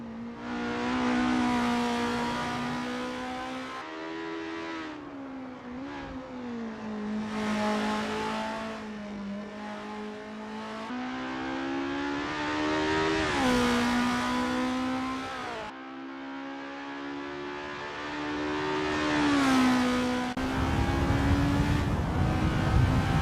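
Racing cars warm up at Hungaroring 1988 in a racing video game, their engines revving up and down in repeated loud, close passes with gear changes and rising and falling pitch.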